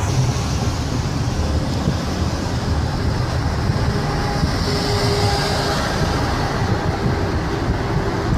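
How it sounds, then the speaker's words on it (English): A train rumbles past close by in a city district of new apartment blocks, a steady broadband roar of wheels and rail noise with faint wind, continuous and loud throughout, with no voices. "And there's the train right there."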